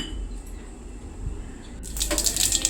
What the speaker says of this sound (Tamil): ஒரு 3 கிளாஸ் தண்ணி ஊற்றிக்கலாம்